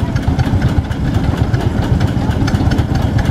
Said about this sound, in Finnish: kun se vauhtipyörästä pyöräytetään tuo kone käyntiin